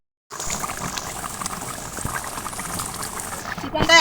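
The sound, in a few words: chicken curry with potatoes boiling and bubbling in a pot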